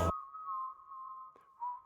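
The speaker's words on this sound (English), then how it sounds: "And then I get the whistle in." A single sustained human whistle carries a melody line inside a music track, holding one steady tone with slight pitch wobbles and a brief breath-like break near the end, clear and close after a short opening burst.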